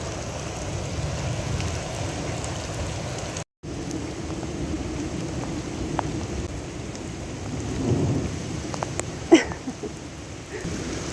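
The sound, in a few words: thunderstorm with heavy rain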